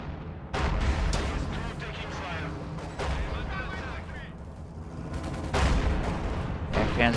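Tank guns fire at range in a WWII strategy video game, heavy booming shots arriving every few seconds over a constant rumble of battle, loud and close.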